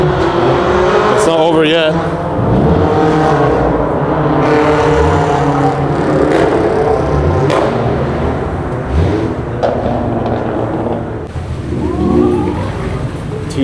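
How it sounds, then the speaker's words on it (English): Several cars arrive at an underground car meet in Osaka, their engines rumbling and revving nearby in an enclosed, echoing space, with brief tire noise and a voice speaking over the steady engine din. "Oh, there are more cars coming."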